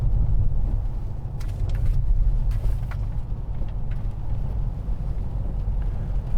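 A 2016 Mercedes-Benz E-Class E220 diesel drives along with a steady low rumble of engine and road noise heard from inside the cabin, with a few faint clicks and no talking.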